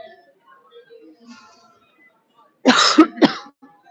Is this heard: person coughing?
yes